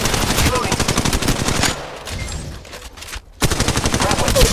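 Rapid automatic gunfire from Apex Legends Mobile, dense and loud in sustained bursts, broken by a short lull near the middle before the firing resumes just as hard.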